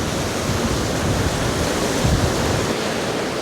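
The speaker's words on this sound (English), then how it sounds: "look at the river this morning" A river in Analong Valley rushes after torrential rain with a steady, loud, broadband roar that holds constant throughout, close by, with no voices.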